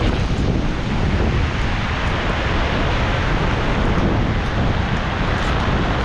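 Heavy rain and strong gusting wind during a Signal No. 3 typhoon beside a rising river, a loud, dense, unbroken roar filling the whole stretch with no voices.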